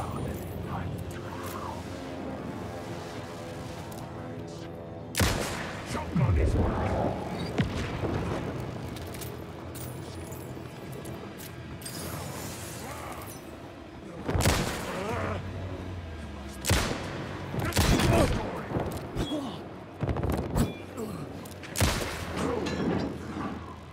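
Gunfire from the Alan Wake 2 video game in a subway setting, several loud booming shots spaced out over continuous dense game noise, with someone talking in between.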